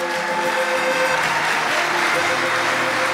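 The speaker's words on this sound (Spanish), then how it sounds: "Démosle un fuerte aplauso." Wedding guests clap after the couple's kiss at a ceremony in a Colombian museum, a full steady round of applause with faint crowd murmur underneath.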